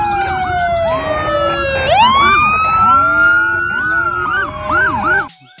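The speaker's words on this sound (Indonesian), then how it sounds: "di sini ada motor polisi" A toy police motorcycle plays a loud, close electronic siren, a falling wail that jumps into rapid repeating yelps before cutting off abruptly.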